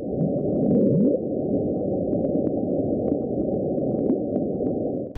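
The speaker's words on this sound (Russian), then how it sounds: "Ученые дали название загадочному звуку «блуп»" The Bloop, a mysterious very loud ultra-low-frequency sound recorded deep in the ocean, heard as a steady dense low rumble that fills the whole clip and swells slightly at the start.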